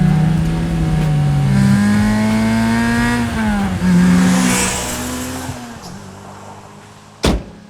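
A Lotus Elise sports car is driven hard nearby, the engine droning loudly and climbing through revs before easing off and fading, ending in a sharp thump.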